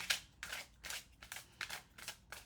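Tarot cards being shuffled by hand, a run of about six crisp riffling bursts in a steady rhythm, close and fairly quiet, with no talking over them.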